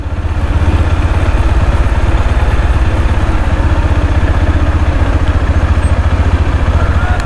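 A motorcycle engine idles nearby on a slippery forest road during an Independence Day ride, giving a loud, steady, fast-pulsing putter that never changes.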